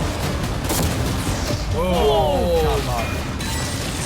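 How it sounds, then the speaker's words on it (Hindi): Cannons firing on a yacht, with rapid booming, crashing impacts and metallic scraping over constant loud background noise, and sweeping whistling tones in the middle of the clip. "वो कैनन्स अभी से शॉन की यॉट को तोड़ रहे थे"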